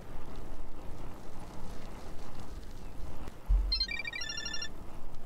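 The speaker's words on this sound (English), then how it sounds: "I'm getting a phone call." A phone in The Karaoke video game starts ringing partway through, a short bright electronic ringtone pattern over a continuous low ambient hum.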